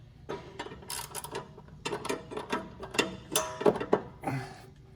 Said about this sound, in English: I'm going to grab my ratchet and put my ratchet in this hole here.